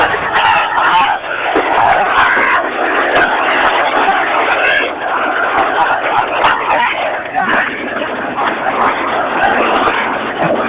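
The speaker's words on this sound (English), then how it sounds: "That was the sound of Iraqis cheering and jumping on that statue." Iraqi crowd cheering and jumping on the toppled Saddam Hussein statue in 2003, a dense roar of shouting voices heard over a phone line with a narrow, band-limited sound and constant chaotic crowd noise.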